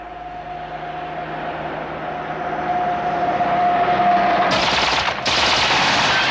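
A rapid burst of automatic machine gun fire from the 1973 film The Day of the Jackal's assassination attempt on General de Gaulle erupts over a steady droning engine hum, loud and harsh, with a brief break between volleys.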